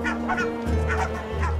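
Barnacle geese honk loudly in a few repeated calls, close by, at an Arctic nesting cliff, with a low rumbling background throughout.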